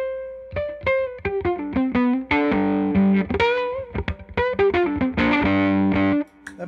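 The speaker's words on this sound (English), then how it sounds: "Honestly, with the distortion all the way down, it sounds pretty good" Violin played through a Bunnel Heavy Metal violin pedal with the distortion turned all the way down, giving a lightly gritty, dynamic tone; a run of short bowed notes gives way to longer sustained phrases, close and clear with no talking.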